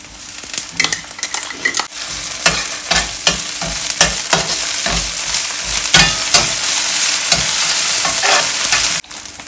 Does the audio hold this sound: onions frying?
yes